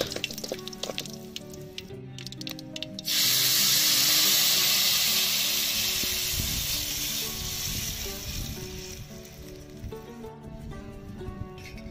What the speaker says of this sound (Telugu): మనం ముందుగా ప్రిపేర్ చేసుకున్న ఆ చింతపండు పులుసును పోసుకోవాలి